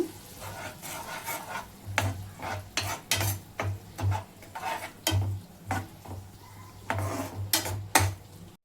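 Chicken with chilli sauce and soy sauce is stirred in a pan, a close, irregular series of spoon scrapes and clatters against the metal over a soft sizzle.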